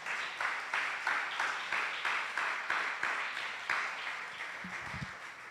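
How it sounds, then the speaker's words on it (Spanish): A church congregation claps in a steady, rhythmic beat, roughly three claps a second, fairly faint and even, with a brief low thump near the end. "Dele un aplauso fuerte al Señor."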